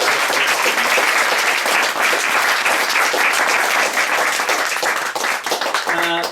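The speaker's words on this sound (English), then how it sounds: "So let's have a round of applause for the executive committee." Loud, sustained round of applause from a party crowd honoring an executive committee at a polo club's year-end trophy presentation, dense steady clapping filling the room with a few voices mixed in.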